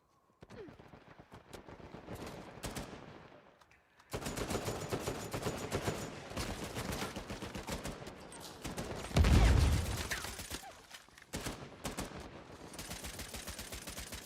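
Rapid video-game gunfire in a first-person shooter, long bursts of automatic fire crackling almost continuously with a heavy boom partway through, loud and close throughout.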